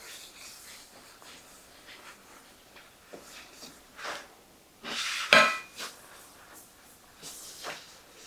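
Cake pans being handled while greased with coconut oil and a paper towel: soft metallic scrapes and rubbing, with a sharper clank of metal near the middle, close up in a quiet kitchen.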